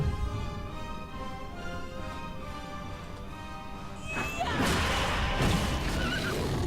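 A horse whinnies over a busy soundtrack with music in the video game The Dwarves, then crashing combat noises swell up loudly near the end.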